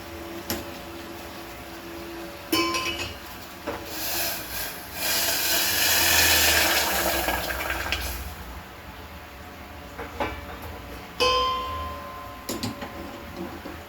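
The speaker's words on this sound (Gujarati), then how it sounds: "ગોળમાં પાણી એડ કરી દઈએ" Water pours steadily onto jaggery in a pan for a few seconds, splashing over a quiet kitchen background, with a few clinks of utensils before and after.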